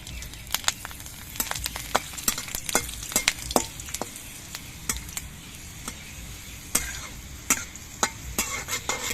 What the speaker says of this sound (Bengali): এবার আমি কয়েক কোয়া রসুন নিয়েছি এই রসুনের কোয়াগুলো আমি ভেজে নিচ্ছি